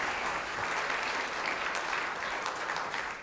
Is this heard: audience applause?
yes